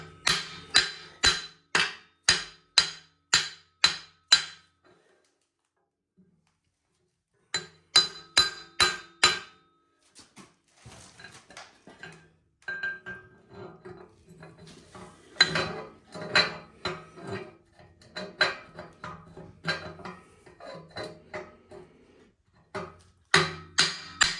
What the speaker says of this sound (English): You just want to kind of work in a circular motion around it just to kind of hammer it out.